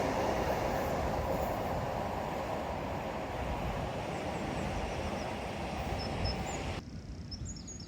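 A train rolls past outdoors on a rainy, windy day, a steady broadband rumble of wheels on rails with faint squeals, sustained and fairly distant before dropping off abruptly near the end.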